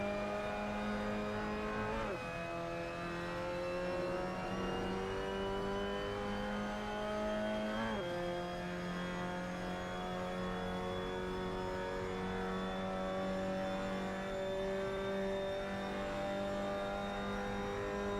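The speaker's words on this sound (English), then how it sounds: "just stab the throttle and let the car wash to the outside" A Mazda MX-5 Cup race car in Assetto Corsa climbs through the gears around Suzuka, its engine note rising steadily with brief dips at three upshifts, loud and close throughout with no talk.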